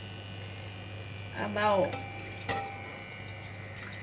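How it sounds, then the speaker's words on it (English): Water poured into a heated pan for a pork rib stew: a short, faint splash and gurgle lasting under a second, followed by a brief clunk, with a voice speaking quietly around it. "I'm going to put in the water"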